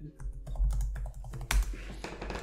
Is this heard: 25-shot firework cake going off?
no